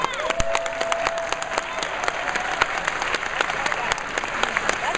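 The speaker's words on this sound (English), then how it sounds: "Why do y'all applaud these cities?" Audience applause at a public forum, a dense wash of clapping with sharp individual claps standing out and some crowd voices underneath.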